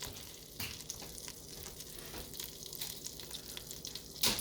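Butter melting and sizzling in a pan for floured chicken with honey-garlic soy sauce, a steady soft crackle and hiss with faint clinks, close and alone, with a brief louder clatter near the end.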